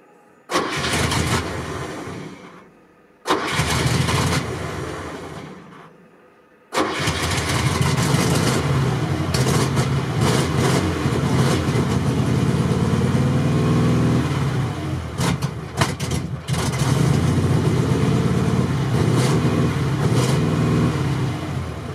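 Engines of a ZAZ-968M and ZAZ-965A, started after ten years standing, crank in two short attempts with pauses, then catch and run at a loud, rough idle close by.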